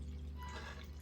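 Hot water poured into cornmeal for porridge, a faint, steady liquid pour with a soft trickling texture heard close up and alone.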